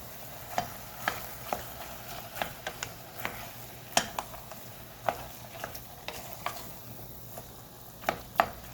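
About a pound of ground beef frying in a pan over medium heat, a soft steady sizzle broken by repeated sharp scrapes and clacks of a utensil stirring and breaking up the meat, close and fairly quiet.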